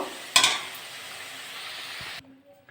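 Potatoes fry in hot oil with a steady, loud sizzle close by, broken by a brief clatter of a utensil near the start; the sizzling then drops away abruptly near the end.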